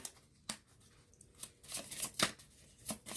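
Love oracle cards are shuffled softly in quick riffling bursts, faint and close, with several brisk flurries of papery flicking and short pauses between them.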